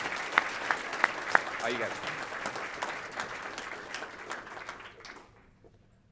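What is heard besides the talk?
audience applause for the winners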